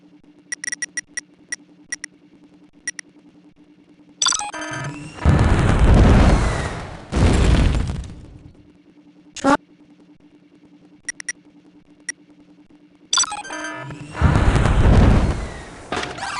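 Rockets in the Space Academy GX game strike with several loud booming bursts of a few seconds each, separated by quiet stretches with a low hum, short electronic blips and brief clicks.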